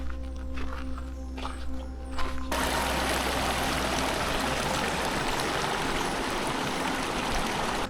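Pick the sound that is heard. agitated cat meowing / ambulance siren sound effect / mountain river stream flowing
mountain river stream flowing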